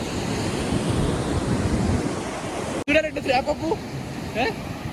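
Sea waves rolling onto a beach, a broad roaring wash with wind buffeting the microphone, cut abruptly and followed by quieter surf under people talking.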